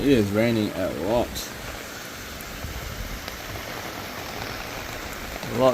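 Heavy Cyclone Jasper rain pours in a constant hissing patter of drops on surfaces, close and continuous. A person speaks briefly at the start and again at the end.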